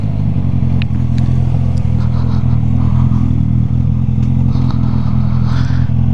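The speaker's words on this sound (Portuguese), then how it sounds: "Motinha azulzinha, da hora." A small blue motorcycle idles close by with a loud, steady low engine rumble and faint clatter throughout, with no talk.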